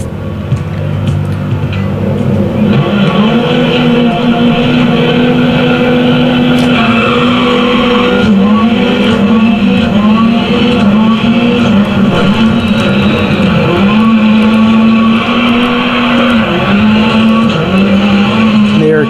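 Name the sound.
rally car racing in video game Dirt Rally, Rally X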